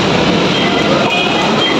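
An MRT train at Taft MRT Station gives a steady, loud rumble of rail and carriage noise that stays even and unbroken throughout.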